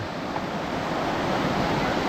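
A dense, constant rush of flowing water fills the whole stretch, loud and unbroken, with no voices.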